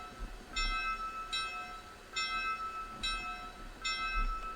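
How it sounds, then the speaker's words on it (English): A steam locomotive's bell in the RailRoads Online video game, rung with an idle locomotive, giving five evenly spaced bright dings close by, each lingering briefly over a low background rumble. "Actually get a chance to hear the bell without it on,"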